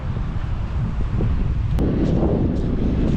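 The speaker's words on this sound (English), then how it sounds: "It's a bit windy." Steady wind buffets the microphone outdoors in a Scottish town with a low, roaring rumble and gusty rustle throughout, loud and close, with no voices.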